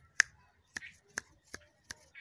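Finger snaps, about five sharp dry clicks spaced roughly evenly across the moment, close and crisp against a quiet background.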